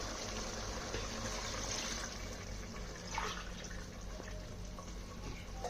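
Water pours steadily into a pot of mutton biryani, a continuous splashing, filling gush held at an even level throughout with no talk.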